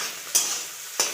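An egg frying lightly in a pan for a chowmein egg roll gives a steady soft hiss, broken twice by short scraping strokes of a spatula, close and without talk.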